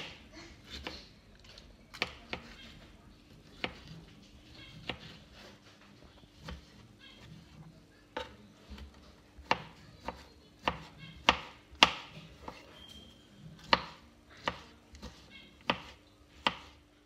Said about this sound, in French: je l'ai épluchée et je vais la découper aussi en petits cubes